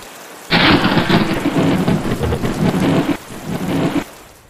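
Heavy rain pours down in a steady, dense wash while thunder rumbles low through the storm, the roar starting abruptly, dipping briefly and swelling again before cutting off near the end.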